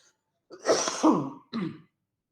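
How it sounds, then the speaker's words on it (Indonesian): Indoor throat clearing and a cough, heard as a longer rough burst followed by one short separate hack, fairly close with no talking. "Sudah mulai batuk-batuk nih"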